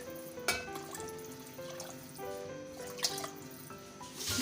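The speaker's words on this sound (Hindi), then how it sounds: "अब इसके अंदर पानी ऐड करेंगे।" Water poured into a cooking pot while making a potato shorba, a gentle splashing and trickling fill with a few louder drips and clinks, fairly quiet and close.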